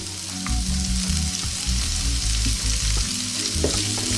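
Onions fry in oil in a pan with a loud, steady hiss and crackle up close, while a utensil scrapes and stirs now and then.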